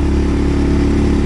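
A Segway Snarler AT6L ATV with a Stage 2 tuned variator revs loudly and close, its engine giving a dense, steady mid-pitched drone for a short burst.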